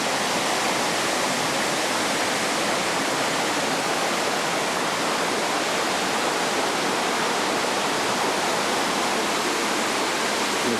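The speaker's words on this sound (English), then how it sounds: "waterfall" A loud, constant rush of a waterfall, a full, unbroken roar heard up close throughout.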